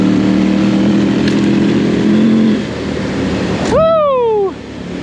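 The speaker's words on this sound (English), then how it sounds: "This 790 is amazing. I am in love with this bike right now." A KTM 790 motorcycle climbing uphill on a brisk morning in the mountains, its engine droning loud and steady close by, then rising in a quick revving whine before cutting back.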